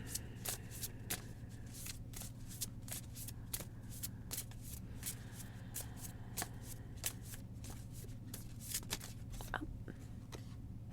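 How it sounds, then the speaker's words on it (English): A deck of cards is shuffled steadily for several seconds, with rapid riffling flicks and soft crisp slaps, close and moderately quiet, with no talking. "So we'll shuffle these cards"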